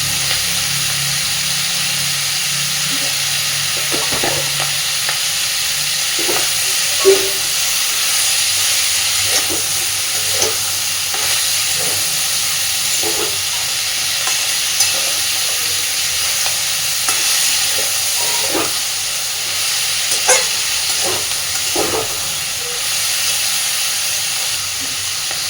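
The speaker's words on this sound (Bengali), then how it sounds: "সবজিটা বেশ অনেকটা ভাজা হয়ে এসেছে" Cauliflower for a chorchori, sprinkled with a little sugar, fries in a pan under a continuous loud sizzle, with irregular scraping and clinking from stirring scattered throughout.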